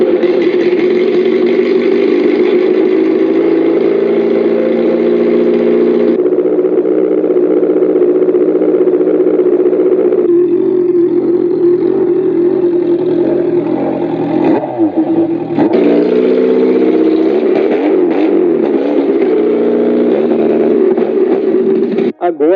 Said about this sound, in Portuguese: Ouça agora a partida desse motor e a aceleração, ao mesmo tempo que comparo com uma moto.